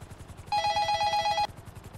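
A telephone rings once inside a video game, a bright electronic ring lasting about a second over a low, rhythmic pulsing background.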